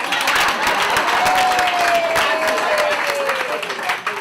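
An audience at an evening awards gala claps along to a children's sing-along song, a loud, dense wash of many hands beating together, with a voice carrying over the top.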